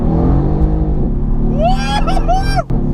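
A 585 bhp Mercedes-AMG GT R engine pulls hard on a B road, heard from inside as a loud, close, droning growl with rising pitch and a brief dip at a gear change near the end.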